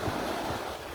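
Ocean waves washing and breaking on the shore, a continuous broad rush of surf mixed with wind buffeting the microphone, close and fairly loud with no voices.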